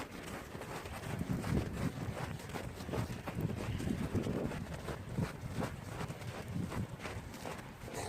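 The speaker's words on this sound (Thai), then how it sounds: "เดี๋ยวขากลับนี่ต้องเดินต้านลมกับตอนขาเดินรอบนี้นะเนี่ย" Strong, steady wind roars through a night snowstorm in Canada while someone walks with a dog through deep snow, a broad continuous rush with gusty swells and no voices.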